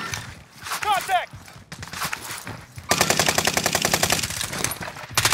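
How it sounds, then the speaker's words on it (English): Fast machine-gun style bursts from an MP7 in Call of Duty Warzone on Rebirth Island, a dense rapid string of shots from about three seconds on, loud and close, after quieter game sounds. "I'm taking fire."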